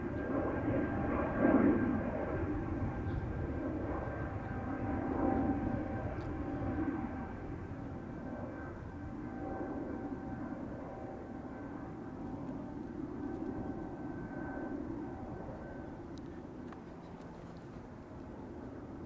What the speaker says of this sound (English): We've got 3 heavies coming this way, already taxiing on the west side of the center runway.